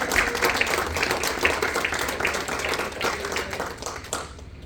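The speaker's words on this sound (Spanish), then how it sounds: "Dale un fuerte aplauso al Señor." A church congregation claps together in sustained, dense applause that stays steady, then thins and fades near the end.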